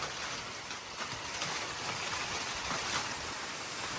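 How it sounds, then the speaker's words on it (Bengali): Steady heavy rain drums hard on surfaces during an evening hailstorm, hailstones falling along with the downpour in a dense, unbroken wash of sound with no talk. "দেখেন কতগুলো পাথর, পাথর বৃষ্টি হচ্ছে এখন।"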